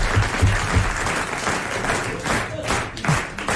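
A studio audience applauds Léon Zitrone with dense, sustained clapping that swells and fades across a few seconds, with light voices mixed in.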